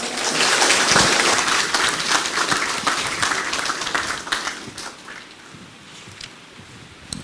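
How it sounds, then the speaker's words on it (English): An audience applauds after a speech at a hospital infrastructure planning report launch, loud dense clapping that gradually thins and fades toward the end. "Another round of applause, please,"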